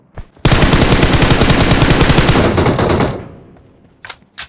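A gun in a video game fires by itself in one long, loud automatic burst of rapid shots lasting about three seconds, then trailing off, followed by a couple of isolated single shots.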